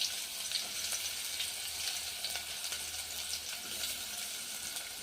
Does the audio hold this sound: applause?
no